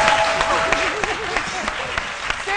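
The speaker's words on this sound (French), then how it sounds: "Ils peuvent applaudir maintenant." A studio audience at a midday TV talk show applauds, a dense, steady wash of clapping throughout with a few sharper claps, while a voice rises over it partway through.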